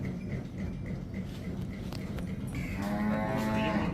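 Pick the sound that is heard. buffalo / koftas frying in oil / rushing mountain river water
buffalo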